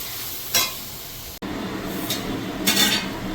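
Spice paste with turmeric sizzles and fries steadily in a pan while being sautéed for Gondhoraj chicken curry, with a few louder scraping stirs over the continuous crackle, close up and without talk.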